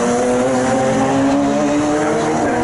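Race cars at Snetterton braking down the Bentley straight in an MSVR All-Comers race, loud engines droning with shifting pitch and a hint of tyre squeal, continuous and close.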